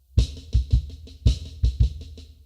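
A drum rudiment played on snare with a kick drum doubling every right-hand stroke, heard as sharp accented hits in two quick bursts of roughly six strokes each, close and loud with no talking.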